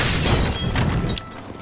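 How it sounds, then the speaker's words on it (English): A piano gun smashes things in the video game Teardown, a loud close burst of shattering and breaking debris that tapers off within a second and a half. "Now I want to show you the piano gun."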